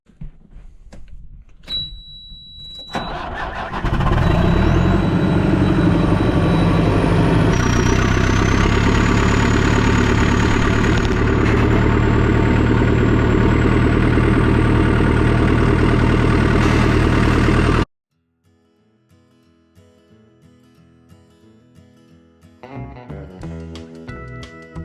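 A backhoe engine idles loud and steady at close range for about fourteen seconds, then cuts off abruptly, leaving faint clanks and rattles.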